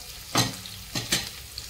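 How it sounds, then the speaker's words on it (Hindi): Garlic, onion and green chilli stir-fried in a kadhai on high flame, with a steady sizzle broken by three sharp scraping stirs of the spatula, close and clear with no talk. "सब्जी सब फ्राई कर देते हैं।"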